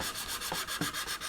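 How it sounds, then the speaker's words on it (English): Plastic card being sanded smooth against the fuselage of a 1/72 Airfix B-17G model kit, a quiet rhythmic rasping of short back-and-forth strokes, close up with no speech. "There we go, and then we can sand that smooth."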